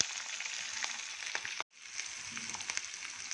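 About fifteen green chillies fry in a pan, giving a steady, fairly quiet sizzling hiss that stops abruptly for a moment midway, then resumes with small crackles.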